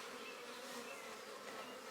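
Honeybees buzzing around busy backyard hives, a dense continuous drone of many insects from a short distance, steady and faint with no voices.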